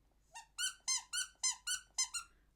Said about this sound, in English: It's just a squeaky toy.